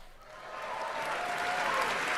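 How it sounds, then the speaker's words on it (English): Audience applause in a hall during a light talk about Canadian politics, a broad steady wash of clapping that builds slightly and stays dense throughout, with no voices over it. "everybody clap for him, even though you don't know what he's saying"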